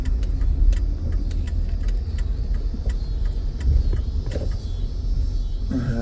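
A car drives past on the road, a steady loud engine rumble and tyre roar that stays close throughout, with a few light rattles and clicks on top.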